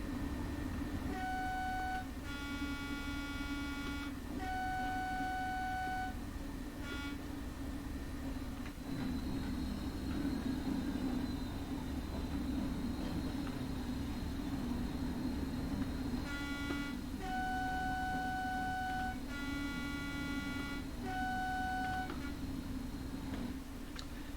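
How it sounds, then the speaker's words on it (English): Train horn in Train Sim World 2 on the Tees Valley Line, two-tone blasts sounded in repeated groups of short and longer toots over a steady engine rumble, with a quiet stretch of engine hum between the bursts. "one thing I haven't shown you guys is the horn"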